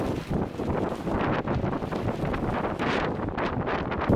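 Blizzard wind gusts buffet the microphone in a loud, steady, rumbling rush that carries through the whole stretch with no voices.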